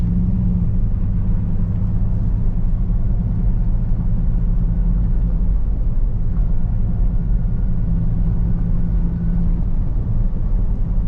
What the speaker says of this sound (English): It's whining a little. First 2 gears.